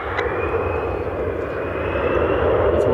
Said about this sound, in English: I see the Guardians charter is taxiing out over to my right